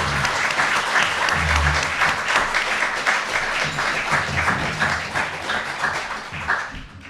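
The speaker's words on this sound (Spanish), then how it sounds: "así que forte aplauso, por favor." An audience claps loudly and steadily for a few seconds after an author is introduced at a live event. The dense applause carries a faint murmur underneath and fades slightly toward the end.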